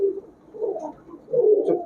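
A high-flyer Giribaz pigeon coos up close in two soft, throaty bursts with a short pause between them. No voices are heard.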